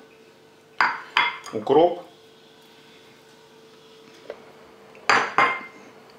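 Garlic, dill and other ingredients for a Ukrainian pork-fat spread are dropped into a bowl with sharp metal and ceramic clinks. The clatter comes in short bursts, close and fairly loud, as a voice speaks briefly.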